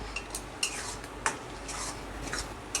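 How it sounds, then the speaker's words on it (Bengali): A spoon scrapes and taps against a pan while kolmi shak bhorta, a dry mashed water spinach dish, is stirred, giving sparse light clinks and soft rubbing over a quiet background. "নেড়ে চেড়ে আরও 2-4-5 মিনিট নেড়ে তবে এটাকে নামাবো"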